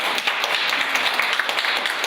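An audience at a university lecture breaks into applause, a dense, steady patter of many hands clapping together, fairly loud and continuous for a couple of seconds with no voices over it.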